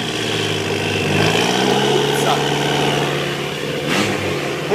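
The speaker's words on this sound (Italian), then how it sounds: "questa che sentite è la Peugeot RCZ." A Peugeot RCZ race car at the Imola circuit revs its engine loudly and continuously, the pitch climbing and falling in a steady, rough mechanical drone with no talk over it.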